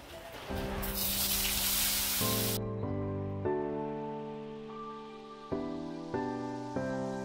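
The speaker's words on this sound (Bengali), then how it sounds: "ওই তেলের মধ্যেই আবার আলুটাও ভেজে নিলাম।" Potatoes fry in oil tempered with whole cumin seeds, giving a loud, dense burst of sizzling hiss that cuts off after about two seconds. Melodic background music plays throughout.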